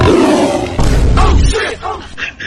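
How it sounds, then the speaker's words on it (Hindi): A played lion roar sound effect, a loud growling roar filling the opening second, then breaking into shorter rough bursts and grunts that fade toward the end. "इस साला कभी शेर का आवाज आ रहा है, कभी बिल्ली का आवाज आ रहा है"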